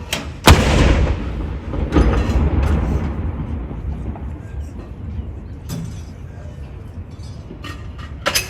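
Royal Artillery gun salute fired at Edinburgh Castle: a sharp, loud cannon blast rolls into a long rumbling echo, followed by further booms spaced several seconds apart, with voices in the background.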